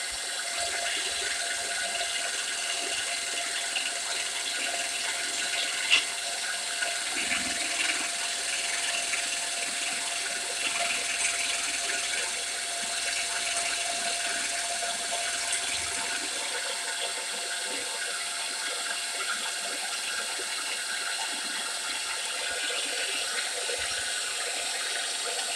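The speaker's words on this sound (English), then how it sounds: "all set up on the milling machine, clamped down, and ready to mill the part off" A milling machine takes the final cut on a GT40 timing cover clamped to its table, giving a steady, loud, continuous grinding hiss that holds for the whole stretch without pause or voices.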